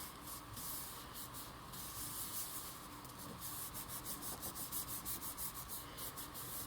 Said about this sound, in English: I'm going to go ahead and rub just a little bit harder.